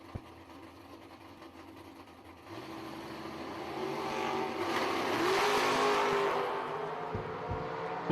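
Drag racing cars, a roadster and a '62 Corvette, roar down the strip, engine noise swelling from a steady drone into a loud sustained howl that peaks and then fades slightly.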